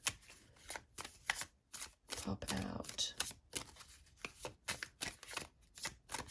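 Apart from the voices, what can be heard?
shuffling cards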